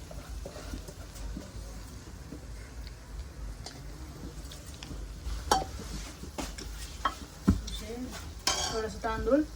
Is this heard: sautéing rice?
yes